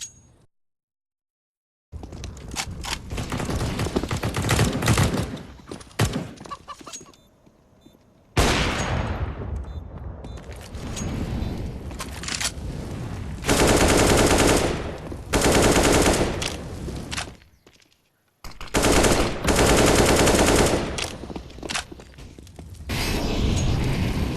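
Bursts of automatic and single gunfire from the video game Counter-Strike, loud and close, in several clusters separated by brief silences, with metallic clinks between volleys.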